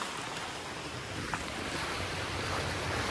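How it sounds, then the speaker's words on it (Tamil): A small hidden waterfall near Nagercoil, Kanyakumari, pouring as a steady, full broadband rush of water, constant and fairly loud with no talk over it. "குட்டி அருவி"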